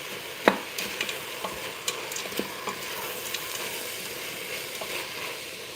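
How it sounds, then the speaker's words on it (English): A spoon stirs frozen peas into a pot of beef stew, giving soft scrapes and scattered light clicks and knocks against the pot, quiet and close with a faint sizzling hiss beneath. "Gonna add that to the pot and give that a stir."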